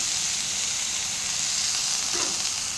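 Coconut and onions fry in a pan, giving a steady, close, bright sizzle and hiss that carries on unbroken, with no talking.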